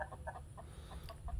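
Chickens cluck softly and steadily in a quick series of short notes, faint and close by, at feeding time.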